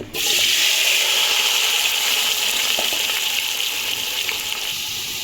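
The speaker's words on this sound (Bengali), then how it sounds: "এখন পেঁয়াজ দিয়ে দিলাম" Sliced onions, a kilogram cut thick, dropped into hot oil on a stove and frying with a loud, steady hiss that fills the whole stretch, unbroken and close.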